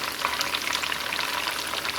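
Pitha cakes fry in oil in a pan, producing a loud, dense, continuous crackling sizzle heard up close with no voices.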